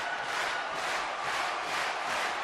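Roaring WWF wrestling arena crowd, a loud dense wash of cheering and yelling that swells and ebbs steadily without pause, heard alone.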